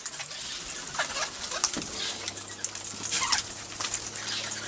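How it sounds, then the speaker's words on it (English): Male and female king parrots calling near a person, several short, sharp squawks and chirps spread across a few seconds over a background hum and rustling. "Here's the one with The male and female king parrot."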